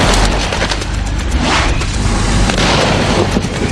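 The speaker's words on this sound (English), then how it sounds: "Enclosed in a sealed container and with a piece of silver foil and a spoon to provide a spark, ignition causes the sealed pudding to explode." A brandy-soaked pudding sealed in a container inside a microwave, with silver foil and a spoon to spark it, bursts in a loud, close, rumbling blast that stays dense and booming throughout.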